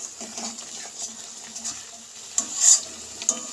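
Masala being stirred constantly in a pan for chana paneer, a low steady sizzle with soft scraping strokes and a brief louder clatter near the end, no talking.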